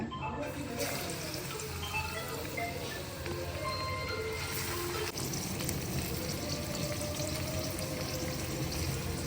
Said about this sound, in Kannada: ಇವಾಗ ಎಣ್ಣೆ ಕಾಯ್ದಿದೆ ಒಂದೊಂದೇ ಬಜ್ಜಿ ಮೆಣಸಿನ್ಕಾಯಿನ ಕಡಲೆ ಹಿಟ್ಟಲ್ಲದ್ದಿ ಹಾಕೋಣ